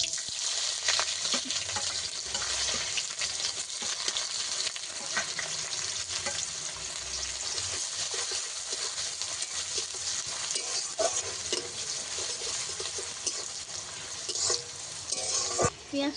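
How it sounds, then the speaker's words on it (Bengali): Sliced onions hissing and crackling in hot oil in a wok, tempered with five-spice seeds and bay leaves, stirred with occasional scrapes; a loud, continuous close sizzle. "পেঁয়াজটাকে আমি ভালো করে ভেজে নেব"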